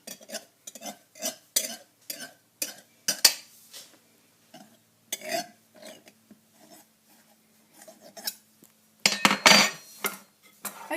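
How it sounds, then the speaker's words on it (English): A knife cutting excess pastry off the rim of a vegetable pie dish, a run of short scraping taps against the dish edge, then a louder burst of scraping near the end. "I'm going to just cut off the excess pastry here"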